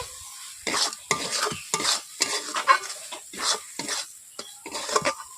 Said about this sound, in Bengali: ওপর থেকে একটু আমি তেল ছড়িয়ে দিচ্ছি